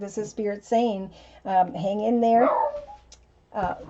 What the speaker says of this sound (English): the dog was barking at absolutely nothing